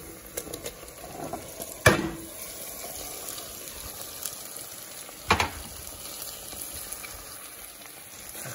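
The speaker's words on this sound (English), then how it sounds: "now we're gonna put the calamari" Calamari hits a pan of golden fried onions, with two distinct splashy bursts of sizzle over a low steady frying hiss, fairly quiet and close.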